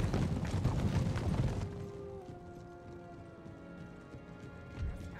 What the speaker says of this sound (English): Charge the winged hussars.